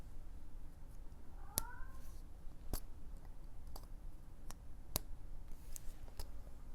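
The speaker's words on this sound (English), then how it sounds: "This is what makes this clicking sound, are these two notches." A Lamy 2000 fountain pen clicks at its two notches, giving six or seven sharp, isolated clicks spaced about a second apart over a faint, quiet background.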